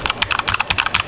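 Hard presses on a Stoga MK22 compact keyboard, a quick run of about a dozen loud, sharp clacks in an uneven rhythm, close up with no voices.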